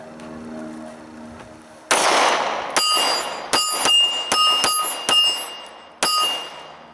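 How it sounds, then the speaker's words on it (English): A Glock 26 pistol fires quick shots, about eight sharp, loud cracks in a rapid, slightly uneven string, each with a ringing tail. "as I'm shooting quick shots, I feel the gun is coming up a lot more"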